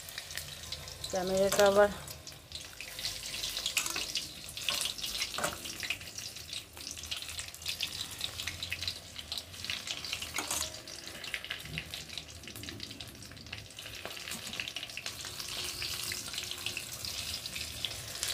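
Pakoras frying a few at a time in hot oil, a quiet continuous bubbling sizzle with light clinks, while a person speaks briefly near the start.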